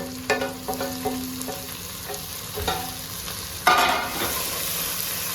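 Chopped tomato sizzles in a pan with browned onions and green chillies for Hyderabadi chicken pulav, with several distinct scraping stirs, one loud clatter midway and a steady frying hiss, no voices.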